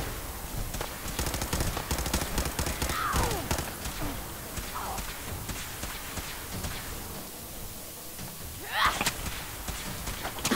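Rapid automatic gunfire in the video game Fallout 4, dense bursts of shots running almost continuously and fairly loud, with faint game voices now and then.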